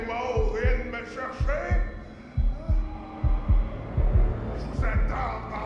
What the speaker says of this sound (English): are we gonna do the heartbeat again?